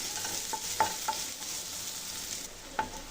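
Chopped large onions stirred and fried in a pan until golden, with a steady sizzle and several sharp spatula clinks against the pan, close and alone.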